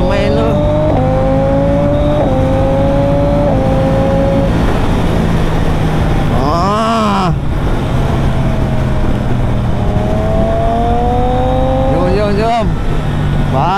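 Motorcycles ride behind a BMW S1000XR, the engine rising and falling in pitch through gear changes, with loud wind rush and a vehicle passing by doppler-style midway.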